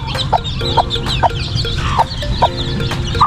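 Hens cluck in short repeated bursts close by, with chicks peeping in the background; no talking.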